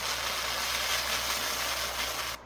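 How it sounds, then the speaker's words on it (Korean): An electric fan running steadily at its highest setting while perilla seeds are winnowed, a constant close whooshing hum with a low motor drone that stops abruptly at the end. "선풍기 더 세게 하면 안 돼?"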